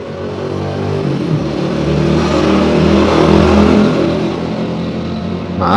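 A motorbike passes by with a loud, low engine drone that swells to a peak midway and then eases off, steady and unbroken, with no voices.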